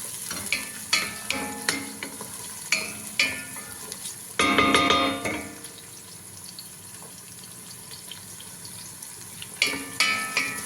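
Carrot pieces fry and get stirred in a pan for laham kabsa, with a bright sizzle and repeated clinking stir strokes, a louder burst midway and steady hissing between, heard up close without talk.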